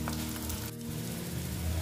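Malabar spinach fritters fry in hot oil, a steady close sizzle that holds level throughout, with no talking.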